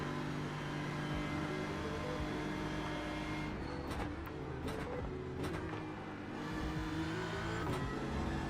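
GT4 race car engine in iRacing at the Nürburgring, a loud, steady drone with layered harmonics, held through the clip and shifting pitch as the car accelerates and brakes, with brief sharp transient bursts mid-way.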